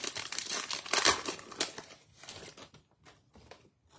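A Topps Chrome baseball card pack is torn open close up, with sharp crinkling foil rips loudest in the first two seconds, then thinning to a few lighter crackles and rustles.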